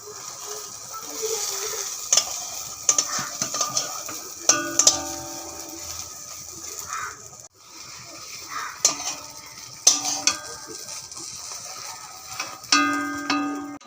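An egg fries in a pan and is flipped over like a rolled crepe, with a soft continuous sizzle broken by repeated metallic scrapes and clinks of a spatula against the pan.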